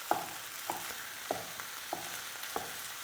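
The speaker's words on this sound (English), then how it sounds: "we tip into it some minced beef. Break the minced beef up a bit." Minced beef frying with browned onions in a pan, a soft continuous sizzle broken by five evenly spaced scraping strokes of a utensil stirring and breaking up the meat.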